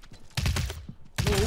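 Gunfire in the video game Realm Royale: two loud bursts of rapid shots, the first running about half a second and a second burst near the end, with faint clicks between them.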